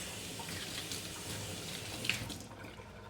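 Tap water runs in a steady, soft splash into a sink while fresh dill is rinsed under it, faint and close, with a brief clink near the end as the flow tapers off.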